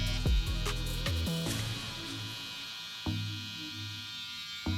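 A Cocco cordless hair trimmer runs steadily with a constant electric hum during a speed test, with a few soft clicks and knocks from handling near the start and one midway, close and without speech.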